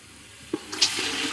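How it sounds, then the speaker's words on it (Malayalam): Water is poured into a pot of biryani with onion and carrot, a brief rushing splash that starts after a soft knock and fills the rest of the moment at moderate volume. "നമ്മൾ ഇതാ വെള്ളം എടുത്ത് വെച്ചിട്ടുണ്ട്. അപ്പൊ അത് ഒഴിച്ചു കൊടുക്കാം."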